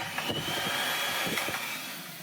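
A vacuum cleaner with a blower runs steadily with a whooshing airflow roar, close and fairly loud, with a few brief thumps and rattles over it.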